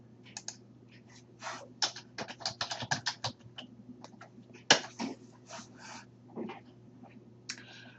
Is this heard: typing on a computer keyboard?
yes